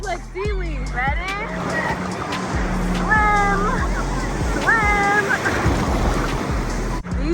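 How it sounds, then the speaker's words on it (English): Ocean surf breaks and sloshes steadily along a beach as children shout and cheer nearby, their excited voices riding over the continuous wash of the waves. "These waves keep knocking me out."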